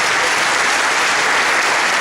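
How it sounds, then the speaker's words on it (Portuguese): A church congregation breaks into dense, loud applause, an unbroken wash of many hands clapping at once for a couple of seconds. "Aplauda o Senhor, meu querido."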